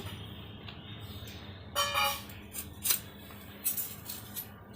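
A knife slicing the end off a pointed gourd (potol) in a kitchen: a few short, crisp cutting and scraping strokes, close and fairly quiet, with brief pauses between them.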